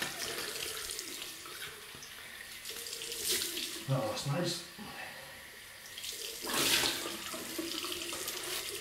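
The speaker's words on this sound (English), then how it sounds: "Right, cold water rinse." Cold water runs from a tap into a sink during a wet shave with a Fine Marvel DE razor, a steady close splashing stream that swells with brief bursts as hands rinse, with a short spoken remark.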